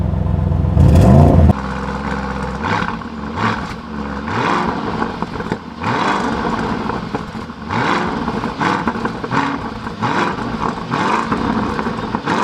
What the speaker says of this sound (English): and then you guys will hear the Lamborghini Urus.